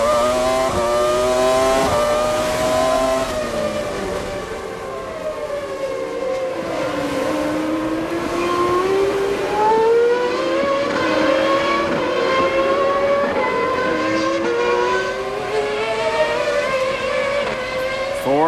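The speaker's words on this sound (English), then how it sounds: "Ford V10 engine." Formula 1 car with a Ford V10 engine racing at the 1998 Argentine Grand Prix, high screaming revs climbing and dropping through gear changes, loud and continuous with other cars passing.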